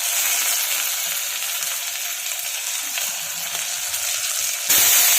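Tomato, curry leaves, green chillies, Byadgi chillies and garlic sautéing together in hot oil for udid vada sambar, a steady loud sizzle that holds evenly throughout and brightens sharply near the end.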